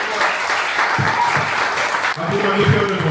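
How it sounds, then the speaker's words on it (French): Audience at a cosplay contest applauds steadily for a few seconds, a dense wash of clapping with some voices mixed in, ending slightly after a brief dip. "On peut l'applaudir de vous."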